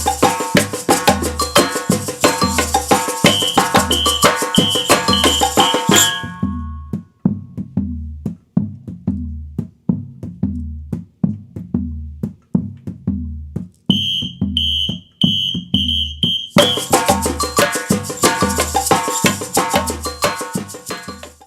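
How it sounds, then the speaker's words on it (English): Samba batucada drumming groove plays loud and driving, then drops to a sparse surdo break of steady deep bass hits with a brief high ringing pattern, before the full ensemble groove returns. "We'll show you a few bars of the groove, then break 1, then a few more bars of the groove."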